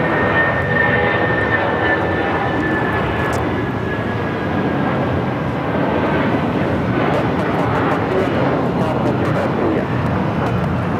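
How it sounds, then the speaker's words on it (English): A United Airlines Boeing 757-200 jet takes off from LAX, its engines giving a steady, loud broadband roar with a faint rising whine that holds through the whole stretch without a break. "This is United Airlines 1591 taking off to Houston Intercontinental on the 757-200"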